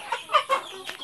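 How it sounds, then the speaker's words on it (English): Chickens cluck in a few quick, close bursts, short throaty notes spaced across a brief moment. "Diba mga chickens?"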